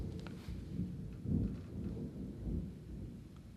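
Low thunder rolls through a storm, with a deep rumble that swells around the middle and then fades back into a steady, muffled background, with no voices.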